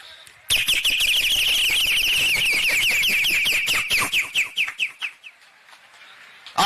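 A performer's voice mimics a chirping bird on stage, a loud, sustained run of rapid warbling trills that breaks into short separated chirps before stopping.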